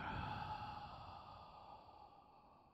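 A slow, deep breath is exhaled during a beginner yoga flow, one soft, airy sigh that fades gradually in the quiet.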